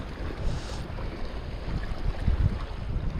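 Strong wind buffets the microphone at the Roundham coast during a fishing trip, a steady loud rumbling roar with gusts swelling toward the end and faint surf beneath, no voices.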